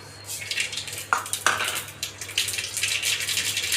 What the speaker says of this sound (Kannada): ಮೊದಲಿಗೆ ನಾನು ಸಾಸಿವೆನ ಹಾಕ್ತಾಯಿದ್ದೀನಿ.